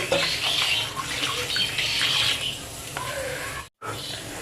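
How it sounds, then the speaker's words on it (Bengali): Water pouring into a kadai to boil cauliflower, a steady splashing gush that runs close for several seconds, then cuts off abruptly before a brief trickle resumes. "জল দিয়ে দেব"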